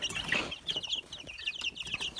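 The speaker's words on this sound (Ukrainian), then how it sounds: "Ось такі то наші курчата маленькі." Three-week-old chicks of Leghorn, Amrox and Bielefelder breeds peep and chirp continuously in a high, busy chorus, close by with soft rustling underneath.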